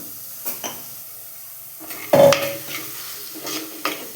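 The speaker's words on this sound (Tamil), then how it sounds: "இப்போ இது எல்லாத்தையுமே நல்லா ஒரு கிளறி கிளறி விட்டுக்கலாம்" Tomato and spices being stirred in a clay pot for chicken gravy, scattered scraping strokes of a spoon with a faint sizzle and one sharper clack against the pot.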